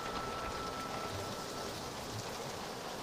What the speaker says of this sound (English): And it's lovely, beautiful rain.